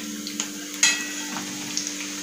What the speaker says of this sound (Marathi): पुन्हा आपल्याला व्यवस्थित तळून घ्यायची आहे।